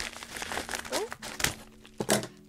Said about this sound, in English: back with the kitchen scissors again